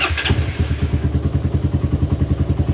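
Honda/Suzuki Raider 150 motorcycle fitted with a racing CDI fires up at once and settles into a loud, close, rapid and steady thumping idle.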